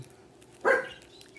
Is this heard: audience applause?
no